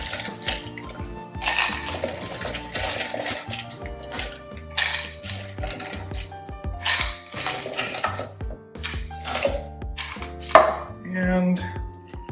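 Ice cubes clatter into a cocktail shaker for a salt-rimmed margarita, followed by vigorous shaking: loud, close rattling bursts of ice against metal, with clinks and knocks between them.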